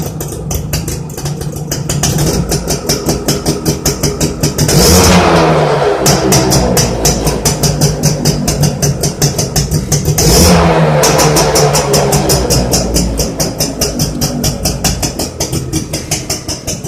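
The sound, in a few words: Suzuki AX 100 motorcycle engine running after rebuild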